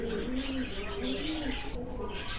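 Pigeons coo steadily in a high-flying pigeon loft, a close, continuous murmur of low rolling calls with faint chirps mixed in.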